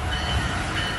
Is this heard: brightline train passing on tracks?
yes